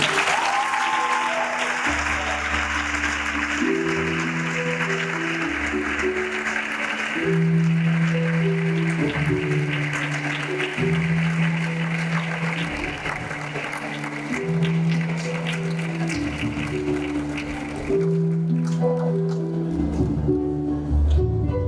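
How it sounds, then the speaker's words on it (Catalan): A large audience gives strong, sustained applause at a high school and vocational graduation ceremony while teachers line up for a group photo, clapping steady over a rhythmic musical backing throughout. "Mentrestant, els podem fer un fort aplaudiment."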